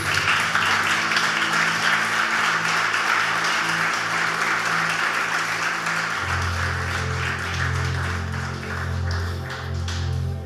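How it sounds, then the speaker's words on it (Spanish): A church congregation applauds at the close of a sermon. The clapping is steady and fills the room for about ten seconds, with low sustained music underneath that grows stronger midway. "Dale un aplauso a Jesús"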